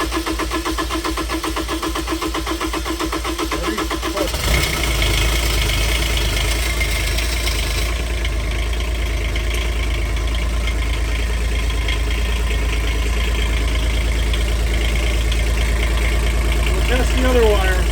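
Kubota D722 diesel engine in a Club Car XRT 1550 utility vehicle cranks and then settles into a steady, loud, low running drone, continuous and close throughout.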